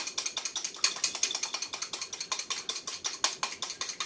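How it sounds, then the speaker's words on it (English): An egg is whisked in a bowl, a fast, steady run of light clicking strokes near and alone, with no voices. "I'll whisk up the egg a little bit"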